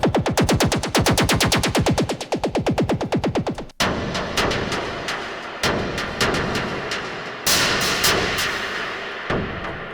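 An industrial-style techno synth preset from Ableton Wavetable plays loud, distorted, noisy stabs, first as a rapid, evenly pulsing burst, then as a slower series of harsh hits that each decay, like gunfire.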